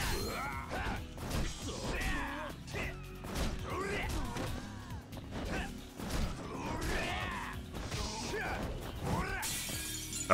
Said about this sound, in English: Oh shit, I smashed Lord Jackson's window.